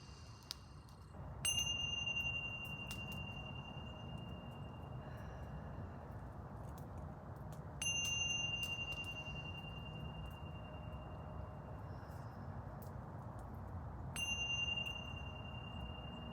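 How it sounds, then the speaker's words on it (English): Three loud ringing chimes, like a singing bowl or bell, strike at even intervals of roughly six seconds, each tone sustaining and fading over a soft steady background. "3 loud chimes."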